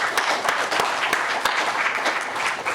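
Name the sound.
audience applause for panel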